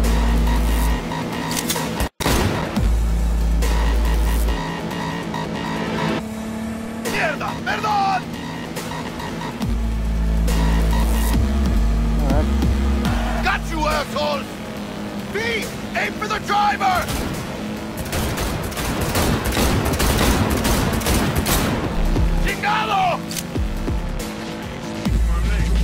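Gunfire rattles from a speeding car in Cyberpunk 2077, sharp bursts layered over a loud engine drone and road noise, with voices talking throughout.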